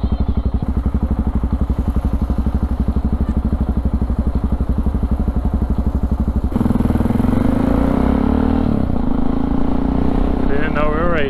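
A motorcycle ridden on the road between Rotterdam and Maassluis, a steady close engine throb that rises in revs partway through, with a rider talking over it.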